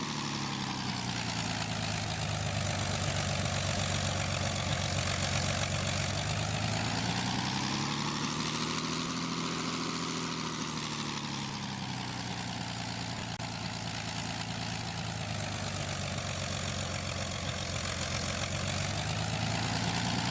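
A steady propeller aircraft engine drone in the Roblox PTFS flight game, heard during a gear-down flyby, holds a continuous loud hum whose pitch sweeps slowly down and back up as the plane passes.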